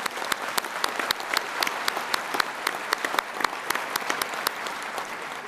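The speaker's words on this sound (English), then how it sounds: "Yes, she deserves a big applause." An audience applauds at a university convocation ceremony, a steady, even wash of many hands with distinct close claps popping out rhythmically, sustained without a break for several seconds.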